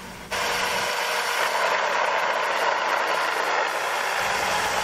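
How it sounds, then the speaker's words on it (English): Loud, steady mechanical chattering from a slapping, wobbling belt on a 3D printed Pelton turbine, a continuous rattling drone that starts abruptly and holds for several seconds close to the listener, with no talking. "That rather annoying noise you just heard was the belt wobbling back and forth"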